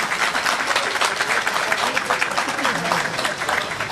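Audience clapping at a White Cane Safety Day celebration, a steady, fairly loud wash of applause from a crowd lasting the whole few seconds, with some voices mixed in.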